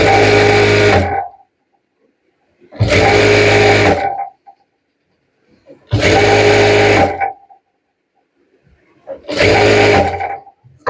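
Sewing machine stitching piping into the side slit of a suit, running in four steady bursts of about a second each with short pauses between them, loud and close with no talking.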